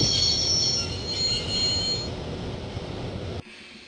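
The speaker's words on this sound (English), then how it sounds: "I'd always wanted to stop a train, and now was my chance." A train brakes to a stop in the video game Broken Sword, its wheels squealing shrilly over a heavy rolling rumble that fades before an abrupt cut to near silence.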